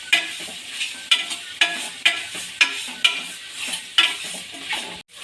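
Goat tripe (boti) fries with salt and turmeric in a pan, giving a steady, close sizzle. A utensil stirs it with regular scraping strokes about every half second, and no one speaks.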